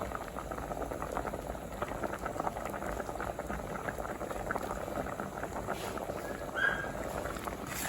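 A pot of soup boiling hard at a steady rolling bubble, foaming up at the surface for making a bamboo shoot curry, with a faint clink near the end and no speech.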